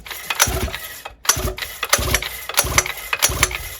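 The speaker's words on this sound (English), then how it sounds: "I'm just going to give it a few gentle pulls without the spark plug on first" A new 49cc mini moto dirtbike engine with the spark plug removed is turned over by its pull starter, giving a series of rapid mechanical churning bursts with a brief pause between pulls, close and fairly loud.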